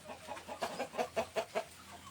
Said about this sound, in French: Ici, regardez, il y a le coq et la poule.